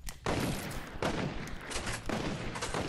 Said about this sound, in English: What is that gun? That sounds insane.